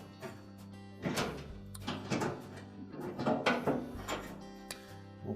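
An appliance's front panel and door assembly is lifted slightly and shifted, giving a series of faint hollow thunks, scrapes and rattles of metal and plastic, quiet and irregular, with no talk.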